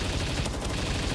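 Gunfire in the video game Palworld, a rapid dense burst of shots filling the whole short moment at steady loudness.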